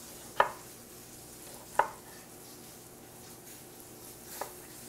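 Knife chopping canned Roma tomatoes on a board, three separate sharp cuts spread over several seconds, the last one softer, over a quiet kitchen background.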